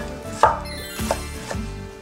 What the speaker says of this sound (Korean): 토마토, 가지, 오이를 먹기 좋게 썬 후